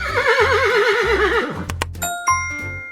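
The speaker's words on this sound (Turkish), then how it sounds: "Sıradaki hayvan at." A loud, close horse whinny with a wavering, descending pitch, followed by a few bright chimes ringing out.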